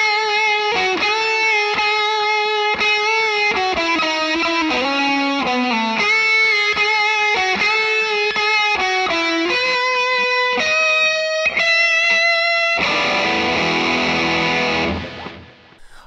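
High-gain electric guitar lead with a Tube Screamer pedal driving it, recreating a 1980s rack tone: loud, sustained distorted notes in a melodic run, ending on a long chord-like swell that fades out, with no talk.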